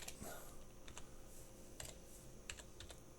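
Fingers tap out text on a computer keyboard in quick, uneven bursts of light clicks, recorded quietly and close with no talking.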